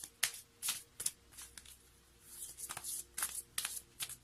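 Oracle cards being shuffled by hand, a soft close riffle repeating in about nine quick papery bursts with brief pauses between, no voices.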